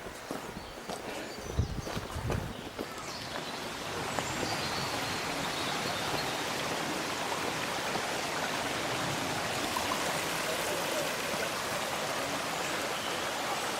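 Water of Luddenden Brook rushes steadily at Wade Bridge, a continuous broadband wash that stays loud and unbroken for the whole stretch, with a few brief knocks near the start and no talk.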